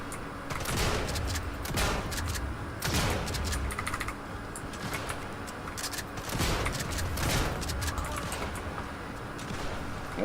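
A mine detonates in the video game Sniper Elite 5, with heavy booming blasts over a dense, continuous din of gunfire and battle noise.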